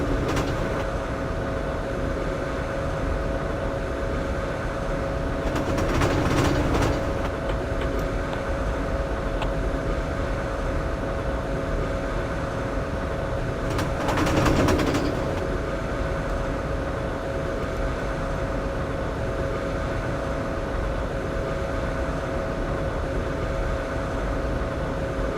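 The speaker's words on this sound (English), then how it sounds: "the train is now accelerating up towards that" An ICE 2 high-speed train in Train Simulator 2017 on the Berlin to Leipzig route accelerates with a steady droning hum and tonal whine, swelling twice into louder rushing passages, no talking.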